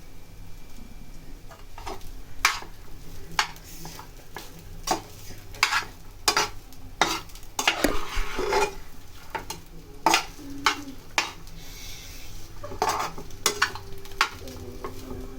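Chicken fried rice stir-fried in a pan, with a steady sizzle broken by frequent sharp scraping and clanking strokes of a spatula against the metal, close and fairly loud.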